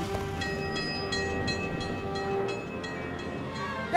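A train rolls in during an animated movie scene, a steady loud rumble with horn-like sustained tones and rhythmic clatter running continuously, with a brief bright accent at the end.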